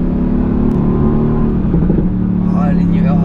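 A Mercedes-AMG car accelerates with a loud, close engine roar that climbs and shifts through gear changes, while voices talk over it.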